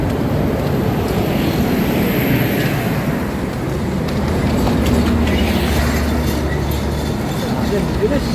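An LRT light rail train in Manila rumbles past close by with a steady roar and rattling rail noise, broadband and loud throughout, with voices faintly underneath.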